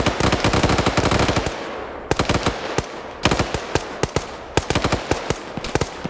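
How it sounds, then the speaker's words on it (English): Blind gunfire in a competitive shooter match on an open map, loud rapid bursts of automatic fire with short pauses between volleys, sustained throughout. "They're now blind firing."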